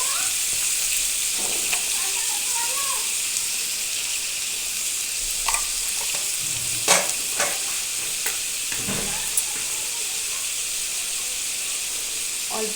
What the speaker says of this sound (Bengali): চিংড়ি মাছটা ভালো করে ভেজে নেবো।